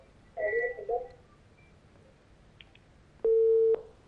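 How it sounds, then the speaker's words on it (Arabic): A telephone line cut off during a live call-in to a TV program, giving a short steady beep tone near the end, preceded by faint scattered electronic tones and line noise. "خط فصل"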